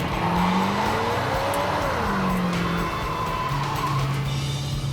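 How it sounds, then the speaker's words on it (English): A 1969 Dodge Charger Daytona doing a burnout, its engine roaring loud and close while the pitch sweeps up and down as the tires spin and squeal continuously. "Good solid burnout."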